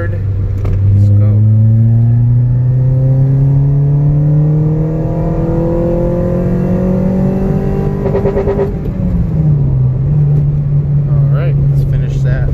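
A tuned car engine in third gear pulls steadily up toward 3,000 RPM, its loud close drone climbing in pitch over several seconds, then dipping and settling briefly around the shift.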